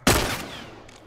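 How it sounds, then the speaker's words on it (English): A single loud shotgun blast in The Last of Us Part II, a sharp close crack followed by a fading echoing tail. "That's shotgun."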